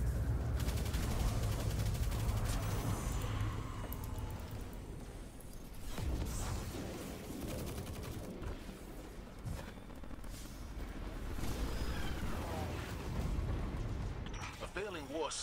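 Weapon fire in the video game Destiny 2, with repeated shots and booming impacts over dense game music and effects, while a voice talks over much of it.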